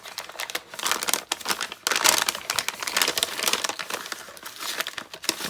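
A small gift bag being opened up close, with continuous crisp crinkling and rustling of paper and plastic in irregular bursts, no talk over it.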